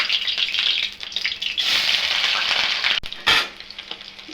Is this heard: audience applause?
no